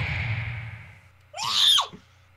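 A monster in the video game Gray Garden lets out one sharp, piercing screech lasting about half a second, loud and rising above a low rumbling game soundtrack.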